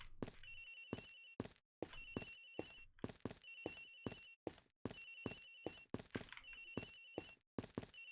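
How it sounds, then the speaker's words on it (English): A phone in the video game Ace Attorney Investigations: Miles Edgeworth rings in repeated electronic bursts separated by short gaps, loud and clear with no talking. "Mr. Hicks's phone, it's ringing from somewhere, sir"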